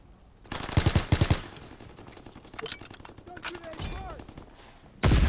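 Bursts of rapid gunfire from Call of Duty: WWII multiplayer, a dense volley early on and a sharp burst at the end, with scattered shots and game effects in between and voices talking over the action.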